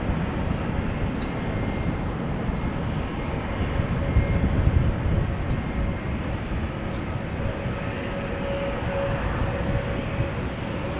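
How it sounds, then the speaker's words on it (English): A KLM Airbus A321 jet at Amsterdam Schiphol Airport gives a steady, broad engine roar that swells slightly near the middle and holds at a fairly constant distance, with no voices. "That's an A321. That's probably, yeah, that's the A321. That is fine for KLM going to Madrid."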